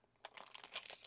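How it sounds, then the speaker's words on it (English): Packaging from a craft shop haul crinkles as it is opened. The crackles are quiet, close and come in quick irregular bursts after a brief silence. "I know everybody doesn't like crinkling noises."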